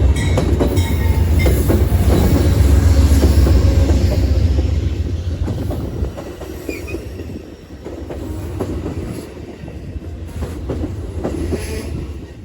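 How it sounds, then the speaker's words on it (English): Amtrak's California Zephyr passenger train, led by two P42DC diesel locomotives, rolls past on a Maryland line: a loud, close rumble with clickety-clack wheels and brief squeals that eases slightly toward the end. "The first train was AmTrak number 5, the California Zephyr, being led by 2 P-42 DCs."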